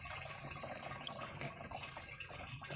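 Water poured into a container to mix a natural farming flower-drop solution for mango and avocado trees, a steady close-up liquid rush with soft splashing running continuously.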